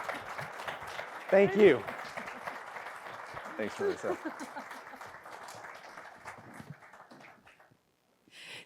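Civic event audience at a State of the City address applauds lightly in the background while people exchange brief thanks close to the microphone, clapping thinning out toward the end.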